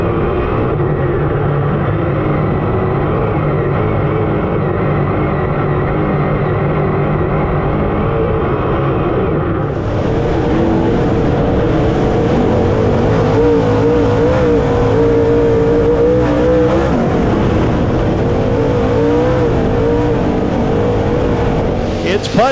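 Race cars roar around a dirt oval in a close, multi-car battle for the lead, engines droning loud and steady, growing louder and denser midway as the pack passes, with an announcer calling the action over the noise.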